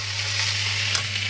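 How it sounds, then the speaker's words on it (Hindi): Cauliflower and potatoes frying in a pan give a steady, close sizzle with a constant low hum beneath and no talk over it. "जब तक मेरी गोभी फ्राई हो रही है"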